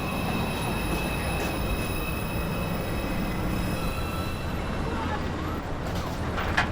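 A New York City subway 2 train pulls into 207 Street station, a steady loud rumble of wheels on rail with a high metallic squeal running throughout.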